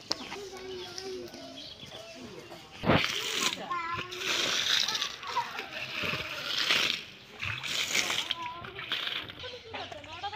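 Water is poured from small clay pots onto plants outdoors, giving splashes and sloshing under ongoing talk, with birds audible nearby.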